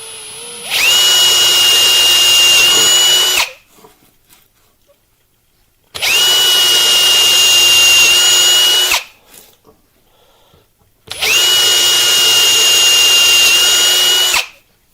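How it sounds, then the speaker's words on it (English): A power drill whirs loudly in three long bursts of about three seconds each, separated by short quiet pauses. "We'll go ahead and drill this."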